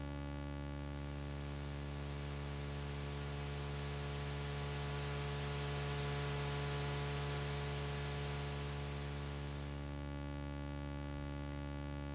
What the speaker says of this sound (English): the Godspeed has a built-in white noise generator that you access by holding the tuning button